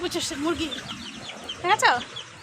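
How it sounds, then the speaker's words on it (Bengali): Chickens kept at a garden house give short clucks and squawks nearby, with a louder burst of calls toward the end, mixed with voices. "দেখো এখানে কিন্তু মুরগি আছে"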